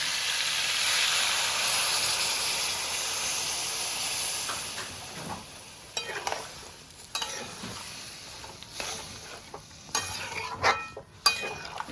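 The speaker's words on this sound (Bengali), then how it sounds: "এবার আমি জল দিয়ে দিচ্ছি।" Water hits sautéed vegetables in a hot pan while cooking pumpkin stems with prawns, a loud burst of steamy sizzle and hiss that fades and gives way to intermittent stirring scrapes and bubbling.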